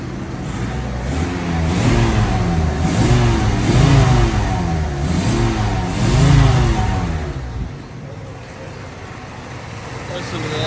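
An old truck engine, started after sitting two years, revs repeatedly in rising and falling surges, close and loud, with a low rumbling idle between revs before settling down.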